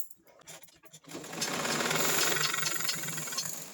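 A sewing machine runs in a steady fast whir as it stitches fabric, starting after a moment of quiet and continuing loud and close to the end.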